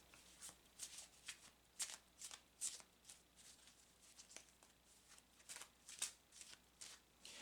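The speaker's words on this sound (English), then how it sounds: "So I'm shuffling the cards" Tarot cards are shuffled by hand close up, a run of soft riffling and slapping bursts in an uneven rhythm over several seconds, quiet against a faint background.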